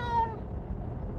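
A pet cat gives a single clear meow at the start, close to the microphone, then the sound trails into a low background murmur with no talking.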